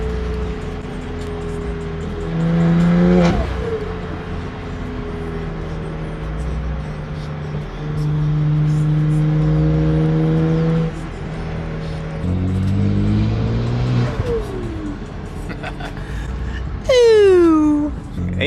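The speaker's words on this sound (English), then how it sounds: "The intakes on this sound so crazy," Intake roar from a modified LCI BMW X3M on a custom E85 tune, with exhaust valves closed, rises and falls through several throttle blips, each climbing in pitch before dropping back to a deep idle rumble.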